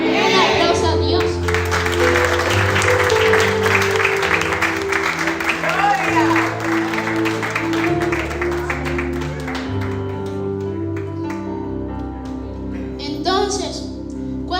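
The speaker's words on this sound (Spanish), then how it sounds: "Un aplauso a Dios" A church congregation claps in praise during a service, a dense patter of hands running under steady sustained keyboard or organ chords, then thinning out toward the end.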